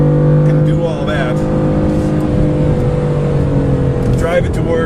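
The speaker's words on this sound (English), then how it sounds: "open it up like this on the straightaway and take it to 150 miles an hour" A 2015 BMW M3/M4 accelerates hard down the straightaway at Road America race track, its engine a loud, steady, sustained drone with a brief rise in pitch.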